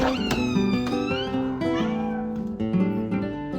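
A cat meows repeatedly in drawn-out, wavering cries, close and loud, with rising and falling pitch across several calls.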